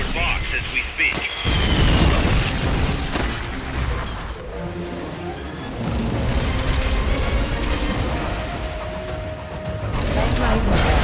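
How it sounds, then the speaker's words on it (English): Rocket launcher fire in Metal Gear Solid: Peace Walker sets off heavy booms and blasts among dense game noise and mechanical sounds, with voices talking over parts of the action. "Firing rocket launcher."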